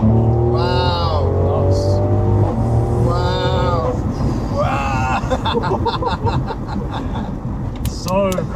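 Mercedes-AMG C43 accelerating on a summer road, its engine note rising steadily and loudly beneath excited talk from people inside the car.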